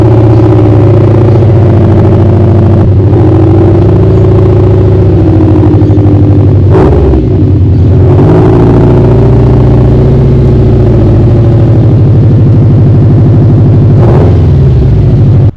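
A rebuilt, previously wrecked Subaru STI, still missing its radiator, starts up and idles loudly with a steady low rumble, blipping and revving briefly a few times as it is backed up, close and continuous with no talking.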